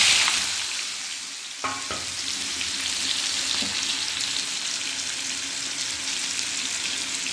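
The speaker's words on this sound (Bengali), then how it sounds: "এবার এর মধ্যে এই সেদ্ধ আলুটা দিয়ে দেবো।" Boiled potatoes drop into a pan of hot oil with panch phoron, fennel seeds and fried peanuts for singara filling, setting off a steady, loud sizzle with a brief clatter as they land, and no talking.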